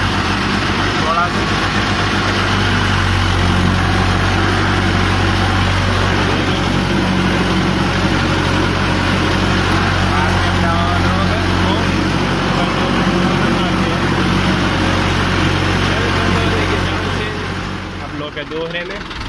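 A Mahindra 595 Turbo tractor runs in third gear with a steady, loud, low diesel drone throughout, under someone talking.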